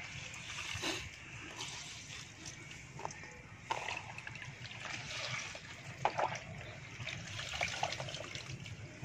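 Cold tap water runs steadily into a sink to rinse pomelo peel, with soft splashing and faint clinks throughout at close range.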